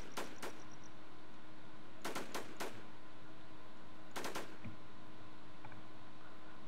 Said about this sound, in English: I'm gonna gun him down